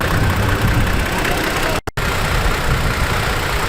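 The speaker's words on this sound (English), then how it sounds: "It's the direct injectors, and they make a little bit of a racket." A 2021 Toyota Tacoma SR engine idles loudly up close, with a fast rattling tick from its direct injectors running through the steady rumble and a brief cut partway through.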